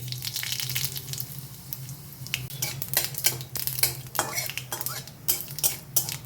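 Dried red chilli and mustard seeds sizzle in hot oil for a pineapple chutney, with a steady hiss under repeated scraping and clinking of a metal spoon against the pan, close and fairly loud.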